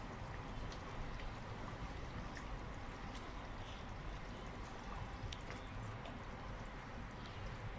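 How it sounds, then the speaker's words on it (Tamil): Continuous bubbling and simmering of mutton gravy in a covered pot for Hyderabadi mutton biryani, a steady busy churn with occasional small pops, close by. "மூடி வச்சு எடுத்ததுக்கப்புறம் இப்போ நல்லா கொதிச்சிருச்சு பாருங்கள்"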